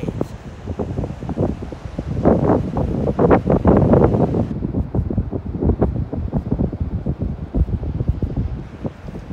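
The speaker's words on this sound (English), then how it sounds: "It's very windy today, and there are some waves." Strong wind gusts roar across a microphone on a windy beach, loud and buffeting throughout. The crash and wash of ocean waves is partly masked beneath the gusts.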